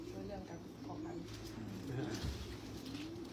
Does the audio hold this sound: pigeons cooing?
yes